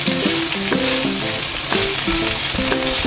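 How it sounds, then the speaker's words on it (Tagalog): Cabbage stir-frying in a pan with salt and sugar, a loud continuous sizzle broken by rhythmic scraping and clinking strokes of a spatula, close and steady with no talking. "Then i-stir fry natin yung ating cabbage."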